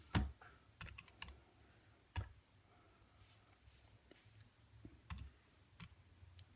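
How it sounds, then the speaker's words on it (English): Clicky keypresses on a calculator, a handful of sharp taps scattered irregularly at close range in a quiet room, with longer pauses between bursts. "I'm going to go ahead and type it into my calculator"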